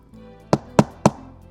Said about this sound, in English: She heard a soft knock at the door.